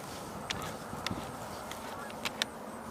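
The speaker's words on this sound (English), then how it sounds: "I'm hearing a mallard" A mallard duck gives a few faint, scattered quacks from a distance against a low, steady outdoor background.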